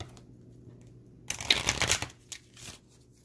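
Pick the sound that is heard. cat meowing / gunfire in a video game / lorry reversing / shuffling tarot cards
shuffling tarot cards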